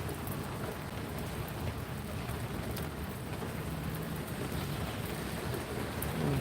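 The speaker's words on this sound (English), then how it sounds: "the rain may be tapering off again a little bit" Steady, dense rainfall pours down outdoors on a June morning, a continuous close hiss of drops on surfaces that stays loud and even throughout with no voices.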